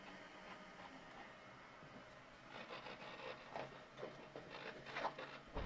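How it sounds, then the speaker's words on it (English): A finished sheet feeding through a PODTopic 380-F machine, a faint steady mechanical rubbing and rolling sound that grows slightly louder with soft rhythmic scraping pulses toward the end. "now my finished sheet"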